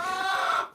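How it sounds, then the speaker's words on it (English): A loud hen squawks in one sustained, brassy call lasting under a second and fading at the end, recorded close up during backyard feeding with no talking over it. "My goodness, the chicken's loud."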